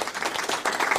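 Short burst of applause sound effect played back during a podcast, a dense, bright crackle of many hands clapping at once, steady and loud for about a second with no voices.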